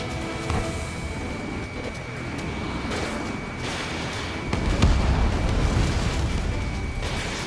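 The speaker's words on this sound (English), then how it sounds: "Missile launched." A missile launching from a CFA-44 fighter jet in Ace Combat 7, a loud broad whooshing roar that swells midway and sustains over continuous engine noise, with no talking.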